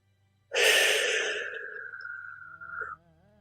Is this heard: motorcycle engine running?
no